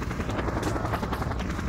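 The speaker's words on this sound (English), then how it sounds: "This helicopter is definitely a nuisance." A helicopter in the video game Just Cause drones with a continuous rotor thrum, moderately loud and steady, with no other sounds standing out.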